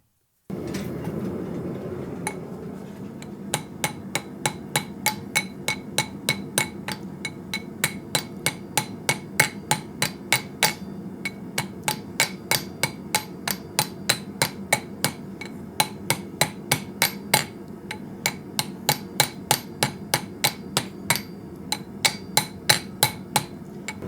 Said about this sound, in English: we're going to put this on the anvil and we're going to flare this end out